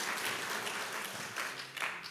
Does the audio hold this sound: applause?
yes